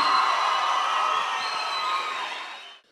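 A school audience at a speaking competition final in Konya gives sustained applause with some cheering, a loud, dense clatter of hands that stays level before cutting off abruptly near the end.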